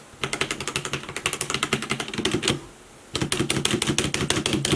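Rapid typing on an ADX FireFight MK17 TKL mechanical gaming keyboard, crisp close clacks in fast bursts with a short pause midway, no talk.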